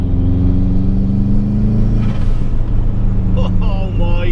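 Modified Subaru Impreza P1, a lightweight car of about 1200 kg, its engine droning steadily and loudly, then revving up with a rising whine in the last second, close by and without talk.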